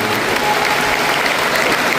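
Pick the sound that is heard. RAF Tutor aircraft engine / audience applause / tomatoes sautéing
audience applause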